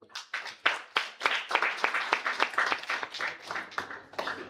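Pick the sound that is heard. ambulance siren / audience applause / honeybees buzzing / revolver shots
audience applause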